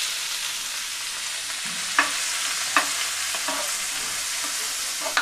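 Onion fries in hot oil with toasted cumin seeds for baingan bharta, a steady sizzling hiss broken by several sharp scrapes as a spoon stirs the pan. No one speaks.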